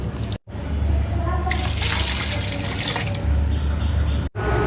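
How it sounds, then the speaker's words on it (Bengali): Water runs and splashes into a pot for several seconds, a steady gushing stream with a low hum underneath and brief pauses. "এখন দিয়ে দেবো হচ্ছে এর ভিতরে পানি"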